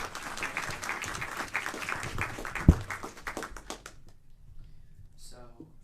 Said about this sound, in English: Again, can we give Imam Mobeen a round of applause?